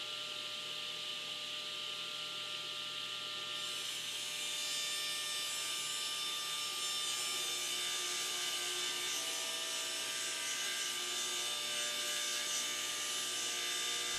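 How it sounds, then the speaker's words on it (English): A table saw rips a wooden board down to a 6-inch width, the motor's steady high whine rising as the blade engages and holding as an even, sustained cut. "I'm going to turn on the saw and rip it down to the 6-inch width"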